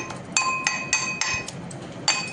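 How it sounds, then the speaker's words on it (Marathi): Ginger and garlic are crushed into a coarse paste with about six sharp, evenly spaced pounding strikes, close and moderately loud. "अशा पद्धतीत आपल्याला आलं लसूण ठेचून घ्यायचे"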